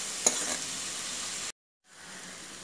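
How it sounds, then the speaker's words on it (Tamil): Onions sautéing in a pan for white kuruma give a steady, close sizzle for about a second and a half, then break off into silence before a fainter frying hiss returns. "வெங்காயம் வதங்கிட்டுருக்கு"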